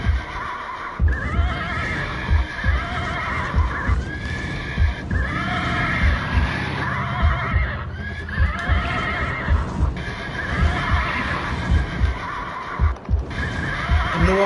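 Horse neighs and whinnies repeatedly over a steady rhythm of clip-clopping hooves in the video game Fleckpunk, loud and close with a constant hum beneath.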